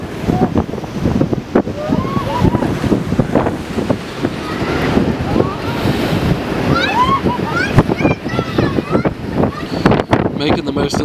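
Strong wind buffets the microphone on the Mount Washington summit observation deck, a loud, gusting roar that rises and falls, with people talking faintly in the background.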